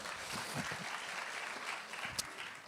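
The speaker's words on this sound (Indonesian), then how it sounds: "Berikan tepuk tangan kita untuk Tuhan kita." Church congregation applauding during a service, a fairly quiet, steady patter of clapping from many people with a few sharper claps standing out, heard without speech.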